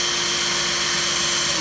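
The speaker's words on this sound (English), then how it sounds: "just spinning your drill and it'll twist the wires together" Power drill spinning steadily to twist wires held upright in pliers for a Halloween quill stand decoration, a loud continuous whine close by with no pauses.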